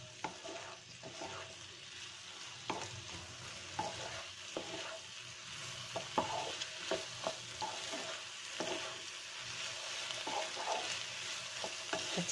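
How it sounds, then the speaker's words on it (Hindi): A spoon stirs cucumber sabzi batter in a pan over a high flame, giving a faint steady sizzle with soft scraping knocks at irregular intervals, close but quiet, without speech. "गैस की फ्लेम हाई करके इसको अच्छी तरह से मिक्स कर देंगे।"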